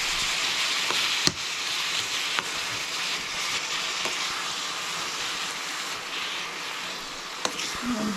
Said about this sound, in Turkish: Kıymamı kavuruyorum